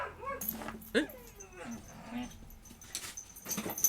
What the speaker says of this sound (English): dog's woken up